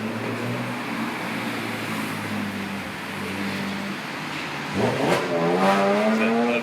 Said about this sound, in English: His car is big and loud.